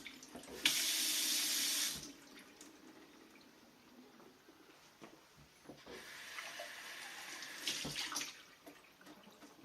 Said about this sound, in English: It just comes out the normal faucet for doing the dishes or whatever it might be